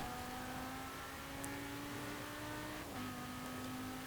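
A 2017 Mercedes-AMG GT R with a V10 engine at very high speed in Forza Horizon 4, giving a steady, loud, high-pitched engine drone with a sustained whine and a slight shift in pitch partway through, heard alone.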